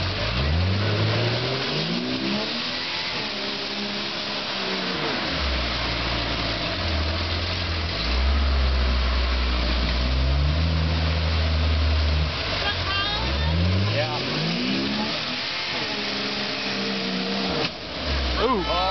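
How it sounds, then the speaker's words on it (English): A car accelerating hard with its rear tires spinning, loud engine revs rising and falling in repeated sweeps, close by at an outdoor event, with people talking over it. "I see his back tires are just catching him."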